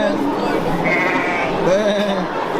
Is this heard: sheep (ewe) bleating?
yes